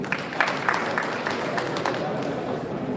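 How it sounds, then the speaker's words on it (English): Audience applause at a mentorship summit in Kano, a dense, continuous wash of clapping that holds steady throughout, with murmuring voices mixed in underneath. "Please, another round of applause for him."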